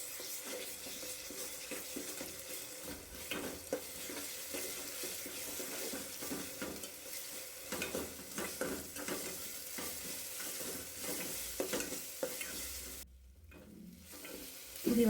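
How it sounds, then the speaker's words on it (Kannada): Ginger garlic paste sizzles and fries in a pan for chicken biryani, a steady broadband hiss broken by repeated scraping stirs, fairly close, with a brief dip near the end before the sizzle returns louder; no talking. "ಶುಂಠಿ ಬೆಳ್ಳುಳ್ಳಿ ಪೇಸ್ಟು ಅದು ಹಸಿ ವಾಸನೆ ಹೋಗೋ ತನಕ ಫ್ರೈ ಮಾಡ್ಕೊಳ್ಳೋಣ."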